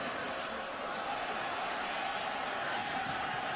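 A college football stadium crowd at a Florida State versus Boston College game murmurs and roars steadily in a broad distant wash, with a commentator's voice over it.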